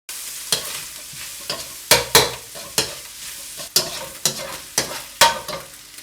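Garlic and ginger stir-fry in a hot wok with soy sauce and sesame oil, loud sizzling bursts and repeated sharp scraping strokes of a spatula in an irregular rhythm, close up with no voices.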